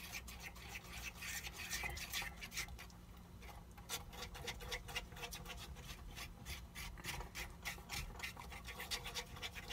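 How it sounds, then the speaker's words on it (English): Spoon scraping and rubbing steadily around a pan of sausage gravy made with milk and flour, a continuous busy scratching texture with quick strokes throughout, close and fairly quiet, no talk. "And then stir constantly, vigorously."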